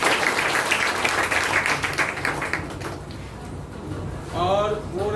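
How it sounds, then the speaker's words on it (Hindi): Students in a live Hindi class at Simultala Residential School clap together in a quick burst of applause, with a teacher's voice audible over the clapping. "एक ताली इनके लिए भी बनती है।"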